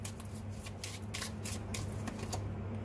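Tarot cards being shuffled by hand in a steady run of soft, papery riffles and slides, fairly close and clear over a low steady hum, with no talking.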